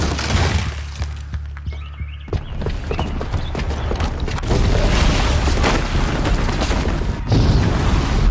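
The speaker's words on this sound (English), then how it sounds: "Because the booby trap on the bomb downstairs is gonna get set off." A booby-trapped bomb goes off in Horizon Zero Dawn, a heavy low blast followed by seconds of clattering, crumbling debris and rumbling action with no speech.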